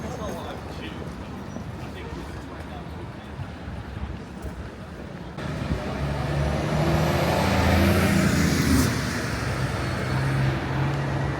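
Steady street traffic outside Victoria Coach Station in London, with a rumbling vehicle or bus passing close and swelling in the second half, a hiss like an air brake, and continuous background road noise under talking.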